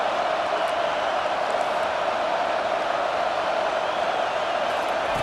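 Stadium crowd in EA Sports College Football 25, a dense, steady roar of many voices filling the background, loud and unbroken throughout.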